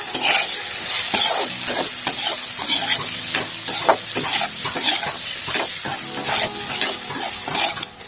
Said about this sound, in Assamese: এতিয়া মাংসখিনি অকণমান ফ্ৰাই কৰি ল'ম আমি অলপমান নিমখ দি দিম ইয়াত